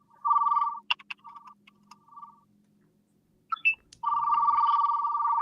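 A dial-up modem connects in Stranger Things, opening with a steady tone and scattered beeps, then a pause before a sustained, noisy handshake screech takes over.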